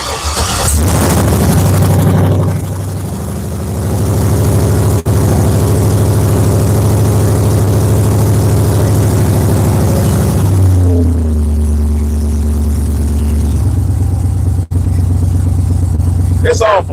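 An LS-swapped car engine runs close by in a deep, steady idle with a low hum, its tone shifting partway through as the revs settle, while a person talks over it.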